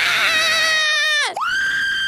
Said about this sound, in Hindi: यहाँ पर चिल्लाने की आवाज आई